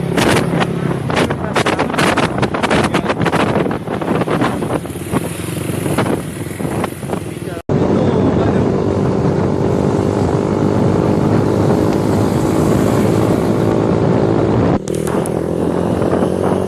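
A Suzuki Satria FU motorcycle with a Salvo T9 racing exhaust rides along a road, its engine droning loud and close through steady wind buffeting, with talk over the first half and two brief cuts.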